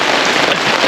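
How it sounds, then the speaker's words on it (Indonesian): Heavy rain pouring at a beach, a dense, steady hiss of drops striking surfaces that stays loud and unbroken throughout, with no voices. "cuman hujan deras, makin deras dari tadi pagi"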